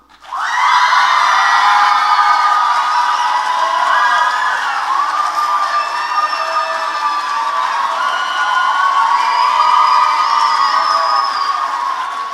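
Loud crowd cheering at a school musical's final show in a theatre, with high excited shouts and whoops, many of them from children, over lighter clapping, sustained and intense throughout.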